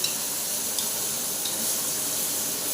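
Steady soft sizzle of desi mutton curry cooking in a home kitchen pan, a continuous frying hiss with faint stirring clinks, heard close and alone without talk.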